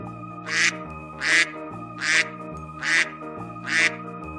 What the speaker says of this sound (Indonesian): Bebek? Ya, itu benar.